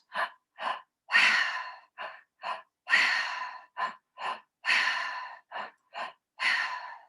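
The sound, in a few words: two breaths in then quick sharp exhale, breathwork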